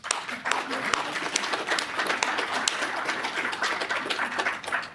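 Applause breaks out at a city council meeting, a steady room-filling clatter of many hands with scattered voices murmuring underneath.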